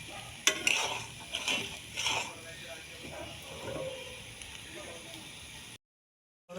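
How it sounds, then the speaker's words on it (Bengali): A spoon scrapes and stirs through mustard curry for hilsa frying in a pan, with sharp clinks against the metal over a soft oily sizzle, before the sound cuts off abruptly near the end. "আমার সর্ষের তরকারিটার থেকে তেল বেরোচ্ছে, তার মানে সর্ষেটা এখন কষানো হয়ে গেছে"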